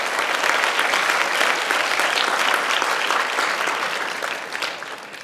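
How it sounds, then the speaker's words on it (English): Audience at a climate leadership gala gives a long, full round of applause, loud and sustained, easing off slightly toward the end. "Let's give them all a round of applause"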